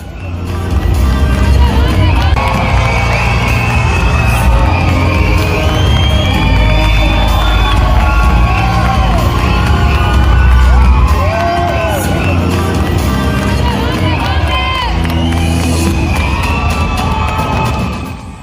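A large crowd of Tamil Americans cheers and shouts continuously in welcome, a dense, loud wash of voices with whoops and calls rising through it.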